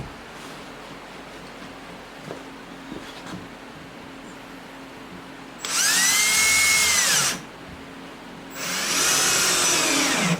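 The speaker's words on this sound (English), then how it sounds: "Up here where there's only an inch of plywood, you definitely want to drill that" A power drill whines loudly in two bursts, a few seconds each, drilling through an inch of plywood, separated by a short pause against a quiet background.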